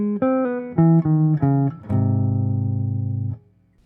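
Bebop line closer phrase, played as a short run of clean, close, separate notes, then a final note held for over a second before cutting off.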